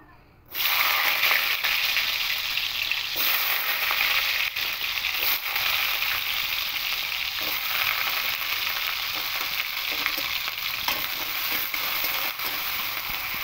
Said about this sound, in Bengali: এবার তেলের মধ্যে কেটে রাখা আলুগুলো দিয়ে দেবো।